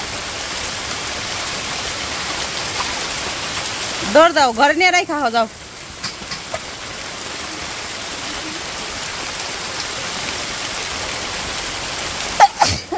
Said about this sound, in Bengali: কি বৃষ্টি নামলো